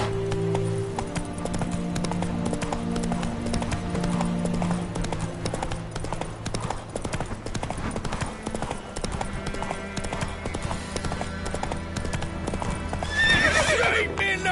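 Horse hooves clip-clop steadily while riding through The Witcher 3 game world, with a horse neighing and whinnying over a music score and ambient game sound.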